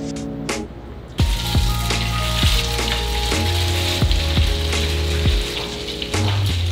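Milk bread dipped in a sugar and egg mixture pan-fries in hot oil over medium-low heat, giving a steady, close crackling sizzle punctuated by a few soft taps and knocks.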